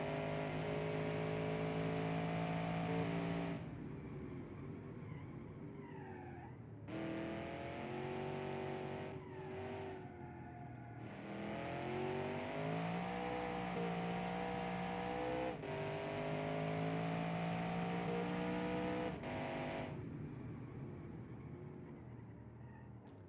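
Race truck engine in a racing video game howling at high speed, loud and sustained with rising and falling pitch through gear shifts, dropping briefly before climbing again, alone without talk.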